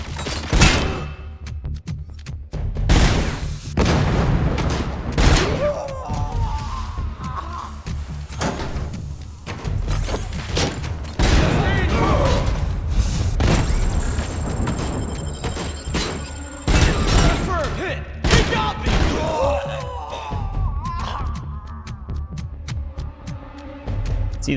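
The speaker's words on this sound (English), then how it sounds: "Dude, they are going nuts with these grenades, man." Grenade blasts and gunfire from RoboCop: Unfinished Business: heavy booming explosions and bursts of shots recur throughout, loud and close, layered over a low throbbing combat hum with no speech.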